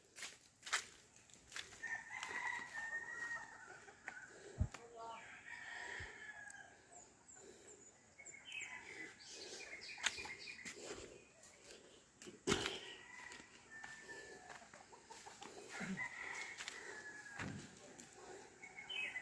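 Roosters crow faintly in the distance several times, with scattered clucking and soft outdoor noise around them.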